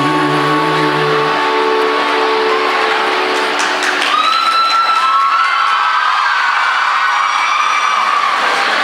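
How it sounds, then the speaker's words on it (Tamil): Crowd of students cheering and shouting at a concert after a song, a loud, sustained roar with shrill high voices and whistles rising over fading music and held tones. "இப்போ நீங்கள் கூச்சல் போடுறது கரெக்டு."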